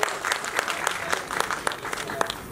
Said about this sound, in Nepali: ल ताली पड्काइदिनु एकपल्ट